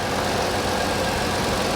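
A 3-cylinder car engine idles steadily at close range, a continuous low rumble with a constant even throb and no change in pitch, with no voices over it.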